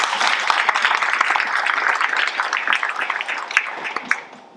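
An audience at a school district State of the District event applauds its teachers, a dense crowd of clapping that holds steady and fades near the end.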